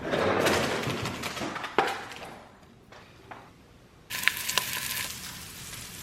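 Sausages frying in a kitchen pan, giving a close sizzle and crackle broken by a few thumps and a quieter pause before the sizzling returns strongly.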